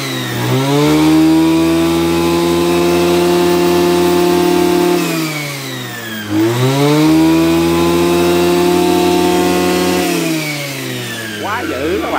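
A Kawasaki TH34 34cc brush cutter engine runs loud and close, revving up and down in long swells with a steady buzzing drone between.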